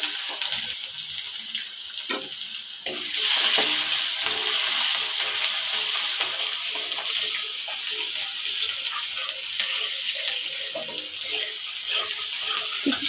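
Chopped onion, bay leaf, garlic and whole cumin frying in hot oil in a pan, a steady loud hissing sizzle running throughout with no one talking.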